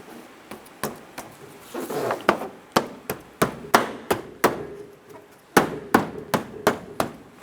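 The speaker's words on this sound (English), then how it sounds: "Press the bumper into the notches in your bracket." A Nissan Versa bumper is pressed into its bracket notches: a series of sharp knocks and taps, about a dozen distinct hits at an uneven rhythm, close and crisp.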